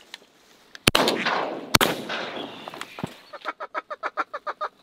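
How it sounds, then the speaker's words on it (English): Shotgun blasts during an opening-day duck hunt on a hidden pond: two loud, close shots about a second apart, followed by a rapid, rhythmic series of honking calls. "Nice shot, Michael."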